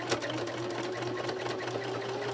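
Sewing machine running steadily as it stitches a curved seam on a denim mini pencil skirt for an 18-inch doll, a continuous close hum with no pauses.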